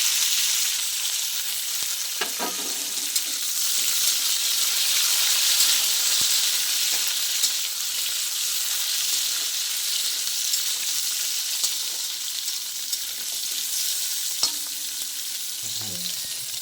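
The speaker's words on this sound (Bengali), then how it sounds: "আলুগুলো ভাজা হয়ে গেছে, এবার আমি ক্যাপসিকামগুলো দিয়ে একটু নেড়ে ছেড়ে নেব।" Capsicum being stir-fried with already-fried potatoes in an oiled pan, a continuous loud sizzle with a few spatula scrapes and knocks, and no one speaking.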